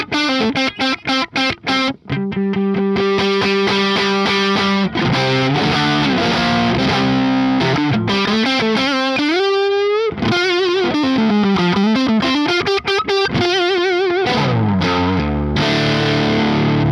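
A heavily distorted electric guitar through a Bare Knuckle Brute Force neck humbucker plays chugging chords and sliding bends with a thick, warm tone, loud and alone.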